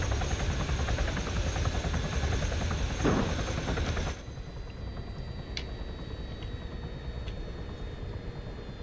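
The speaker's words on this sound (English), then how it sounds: "this is a really cool helicopter. I really like Chinooks." Chinook twin-rotor helicopter in the ARMA 3 military game, a loud, steady rotor and engine roar that drops sharply partway through to a lower, quieter hum with a few faint high tones.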